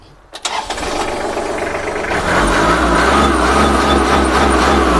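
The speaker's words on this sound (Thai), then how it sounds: "ฟังเสียงเครื่องยนต์นะครับ" A small Kubota or Iseki farm tractor's diesel engine cranks briefly, catches and settles into a loud, steady idle, close by.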